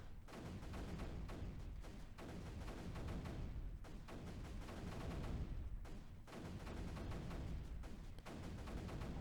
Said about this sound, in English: just keep pounding whatever's closest with those mortars